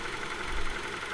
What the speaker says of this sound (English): So engine running condition is good.